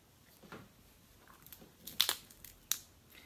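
Crispy pancakes as crunchy as cookies are bitten into, giving a few sharp, close crunches clustered together after a quieter stretch, with no talking.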